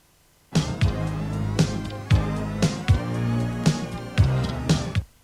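A sampled musical phrase is played back from a TC 2290 digital delay after editing: a loop of rhythmic notes with repeated sharp attacks and sustained tones, loud and clear with no voice over it.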